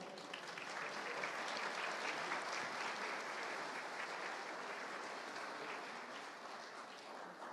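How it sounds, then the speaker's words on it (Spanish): Sustained audience applause at the opening of the CannaMexico World Summit 2018 conference, as a host is welcomed onto the stage; steady, dense clapping from a large crowd throughout, fairly distant and even in level. "Bienvenido, Luis, un fuerte aplauso, por favor."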